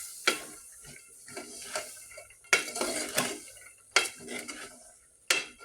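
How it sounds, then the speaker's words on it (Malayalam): Chickpea curry stirred in a pan, with repeated scraping strokes and sharp spoon knocks against the metal in bursts, a faint sizzle underneath, close and moderately loud. "നല്ലപോലെ ഒന്ന് മിക്സ് ചെയ്ത് കൊടുക്കണേ."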